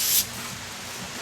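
A short burst of aerosol brake cleaner sprayed onto Bilstein 7100 remote reservoir shock absorber parts, a close hiss lasting a fraction of a second, then a quiet background.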